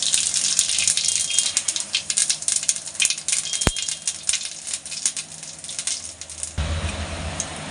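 Close, steady crackling sizzle of half a spoon of cumin seeds dropped into hot mustard oil for an Aligarh-style potato curry, a dense spattering hiss with scattered pops that continues throughout, softening slightly near the end.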